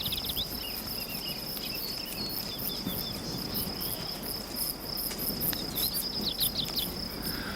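Mormon crickets and other insects chirp steadily in the open outdoors, a continuous high shrill trill with scattered quick clicking bursts over a dense hiss of ambient noise.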